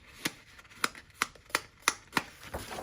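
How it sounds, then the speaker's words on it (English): Thick paper pages of a colouring book flipped by hand, six or seven crisp papery snaps in a fairly steady rhythm, close and clear in a quiet room. "the paper feels really thick. Like, listen to this."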